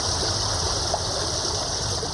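Cool mountain stream on a 70-acre farm, a steady, continuous rush and trickle of flowing water heard alone and fairly close, with an even level throughout.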